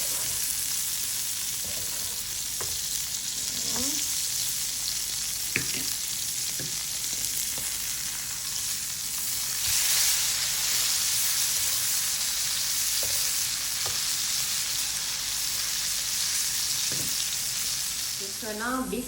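Steak frying in a pan with rosemary and garlic butter gives a continuous, loud, close sizzle with occasional crackles and spatters, almost no talk.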